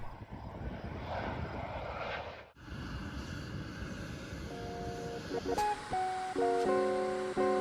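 A United CRJ-550 regional jet's engines roar and whine steadily at a distance after landing from Newark, then a series of clear electronic tones chimes over the engine noise.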